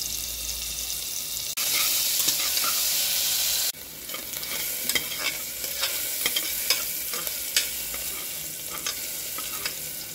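Ground garlic and coriander paste sizzling in a spoonful of ghee inside a pressure cooker for masala khichdi, a steady close hiss with a sudden louder burst partway through and light stirring scrapes.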